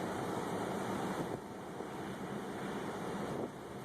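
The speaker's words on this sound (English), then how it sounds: "Feel the wind?" Strong tornado wind roars in a steady, loud rush of noise that buffets the microphone, easing slightly partway through without stopping.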